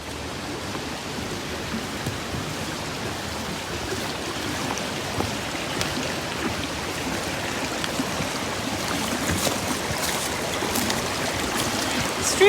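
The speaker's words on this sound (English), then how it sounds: "Streams are a great spot to sit down and relax and enjoy nature." Stream flowing through Pafford Woods, a steady broadband rush of running water with faint trickling splashes, continuous and fairly near, no talk.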